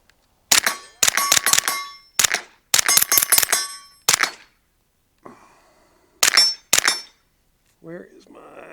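A suppressed Springfield Kuna pistol fires in quick bursts of sharp, snappy cracks with metallic pings, loud and close, separated by brief silences, with a few quieter trailing sounds at the end.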